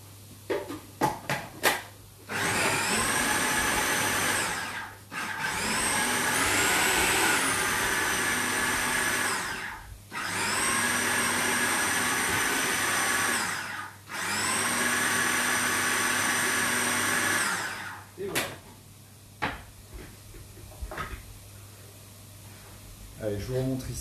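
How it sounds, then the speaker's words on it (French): A kitchen blender runs in three long, loud bursts of several seconds each, whirring steadily as it purées beetroot during a cooking class, with short pauses and brief talk between bursts. "je vais en profiter pour mettre aussi ma betterave qu'on va mixer tout à l'heure"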